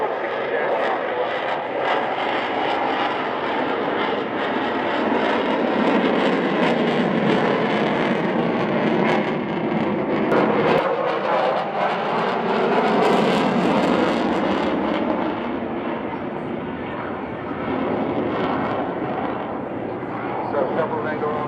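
A Eurofighter Typhoon at an airshow powers up into full reheat, a loud, continuous broadband jet roar that swells and shifts in pitch as it climbs away, steady throughout with no pause.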